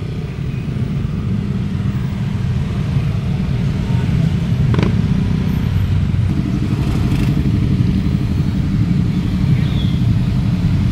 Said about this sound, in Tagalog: Sobrang traffic talaga ngayon.